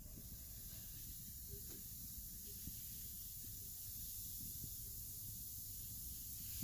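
A bath bomb fizzes steadily in bathtub water, giving a continuous soft hiss with a low, bubbling rumble underneath that holds at an even level throughout, with no voices.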